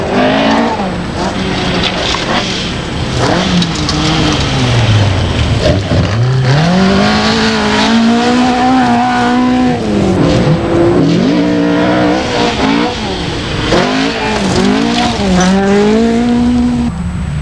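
Group B rally cars at the 1985 Scottish Rally, engines roaring loudly through rising and falling revs, with gear changes and sustained high-pitched whine almost throughout, commentary-free and continuous.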